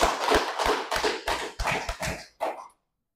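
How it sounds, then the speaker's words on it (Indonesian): A classroom of students clapping together in a rhythmic pattern of grouped claps, fairly close and lively, ending with a final burst before silence. "Tepuk tangan untuk kelas semua."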